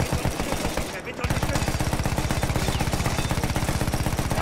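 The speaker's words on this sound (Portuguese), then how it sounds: "Agora eu tô controlando aqui uma metralhadora automática aqui, galera. Meter bala aqui." Automatic machine gun in the Battlefield 1 video game firing a continuous rapid stream of loud, evenly spaced shots after a brief pause, with a dense battlefield din behind.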